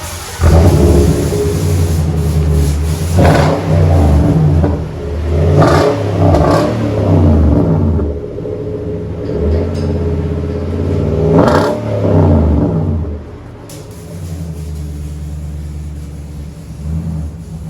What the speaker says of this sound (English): 2011 Titan 4x4 Flex Fuel Flowmaster dual in, single out Super 10.